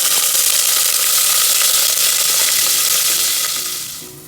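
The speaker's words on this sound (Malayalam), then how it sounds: "കടുക് പൊട്ടി വന്നിട്ടുണ്ട്. അതിലോട്ട് നമ്മൾ അരിഞ്ഞു വെച്ചിരിക്കുന്ന തേങ്ങാക്കൊത്ത് ചേർത്ത് കൊടുക്കാം." Hot oil with popped mustard seeds sizzles loudly and continuously as coconut pieces fry in a pan, the crackling hiss fading toward the end.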